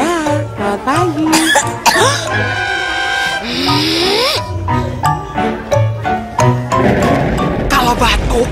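Repeated harsh coughing bursts from a cough medicine advertisement, loud and close, mixed with strained vocal noises, throat sounds and music, with voices heard in between.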